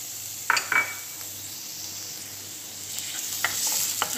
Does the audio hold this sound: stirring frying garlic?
yes